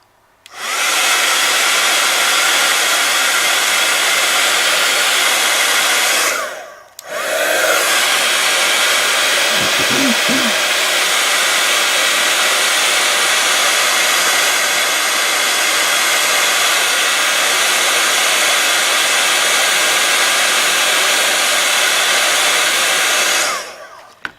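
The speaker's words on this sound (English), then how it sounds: "I'm going to heat set this clear embossing powder." A heat tool blows steadily as it melts clear embossing powder on mixed media teabag art. The loud, even whir runs close for nearly the whole stretch, broken only by a brief cut-off early on.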